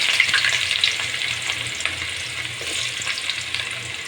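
Cardamom pods and onion fry in a pan with a dense, continuous sizzle, overlaid by faint scraping stir strokes and small crackles, close and without any talking.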